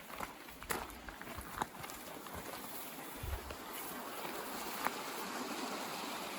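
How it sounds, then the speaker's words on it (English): 16 Mile Creek runs as a steady broadband wash of flowing water beneath an old train trestle, continuous and moderately loud, with a few soft thumps and footstep-like knocks scattered over it. "Now this is 16 Mile Creek."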